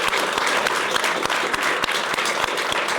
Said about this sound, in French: Donc on peut applaudir, c'est Béatrice Rosen.